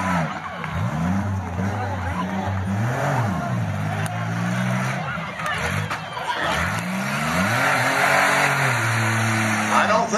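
A demolition derby car's engine idles and revs in a long, wavering mid-range drone, rising and falling repeatedly at close range with crowd noise underneath.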